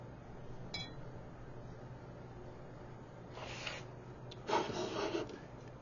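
A paintbrush carrying red oil paint is rinsed in a glass jar while weathering a 1/200 scale ship model hull, giving a few soft clinks and swishes against the glass, close and quiet, with a brief louder burst of rinsing near the end.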